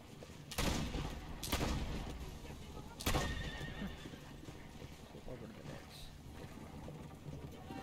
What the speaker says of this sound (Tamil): குதிரை நம்ம கண்ட்ரோல் இல்லாதனால வந்து பார்த்தீங்கன்னா அது எக்கத்தப்ப ஓடுது.